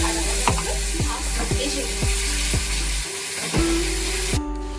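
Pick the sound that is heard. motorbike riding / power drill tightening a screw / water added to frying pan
water added to frying pan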